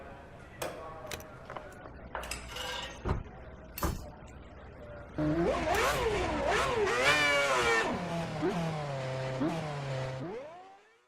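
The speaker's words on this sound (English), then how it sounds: "Get the car off the jacks and start the engine." Formula 1 car engine starting on the grid at the Singapore Grand Prix in a racing video game, a few clunks and clicks, then a loud rising whine that revs up and down and cuts off.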